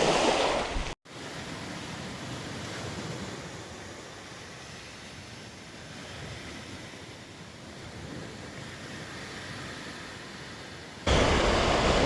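Strong wind buffeting the microphone with waves washing in on a loch shore along the Great Glen Way, a loud continuous roar broken by one brief dropout and rising again at the end, with no voices.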